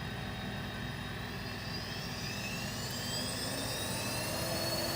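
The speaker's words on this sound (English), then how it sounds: "go ahead and plug this in. And we're gonna power on the roaster." A North TJ-066 Mill City 500-gram coffee roaster runs just after its exhaust fan was cleaned, giving a steady, even whooshing fan roar with a faint high whine rising over it, unbroken for the whole stretch.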